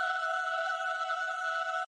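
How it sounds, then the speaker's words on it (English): Sustained choir pad from a dubstep drop, one steady held chord of voices lasting nearly two seconds before cutting off abruptly, fairly soft and without other sounds. "we have this choir"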